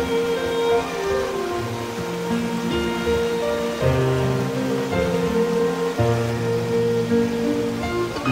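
Datanla waterfall in Da Lat, Vietnam, spilling over many rock ledges, gives a steady broad roar that holds constant throughout, with faint tonal music layered over it.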